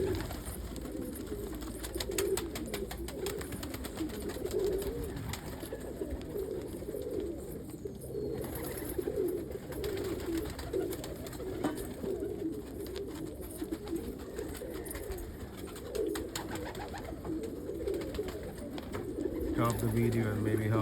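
Pet pigeons or doves are fed pizza crust, cooing softly and repeatedly over a constant low background hum throughout.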